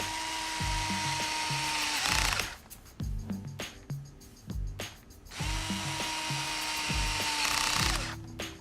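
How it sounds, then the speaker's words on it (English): A power driver sets screws into the front differential of an RC car in close, repeated whirring bursts, with ratcheting clicks and short pauses between them. "screws going in a lot easier if you actually have the right sized bit"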